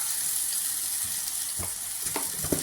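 Chettinad chicken gravy masala with chilli and salt sautés in a pan, giving a steady hiss of frying that becomes louder and more crackly toward the end as a spoon stirs it, with no voices.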